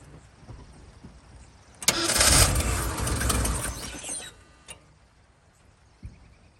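A Ford truck's 460 engine cranks for about two seconds with a loud, rough churning of the starter but never catches, then falls quiet, leaving a few faint clicks and knocks.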